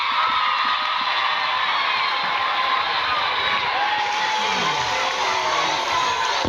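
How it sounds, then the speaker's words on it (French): A school audience at a lycée alumnae event cheers and claps after a student's poem recital: a dense, steady roar of crowd noise with children shouting and whooping throughout. "On applaudit encore très fort."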